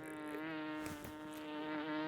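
A housefly buzzes close by in a steady, whining drone that wavers slightly in pitch as it moves, continuous across the short span with no other sounds.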